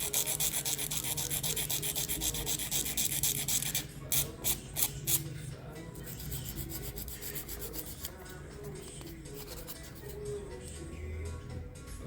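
Soft nail file rubbed back and forth across a natural fingernail, giving a continuous close raspy scratching with short separate strokes partway through, then quieter steady filing.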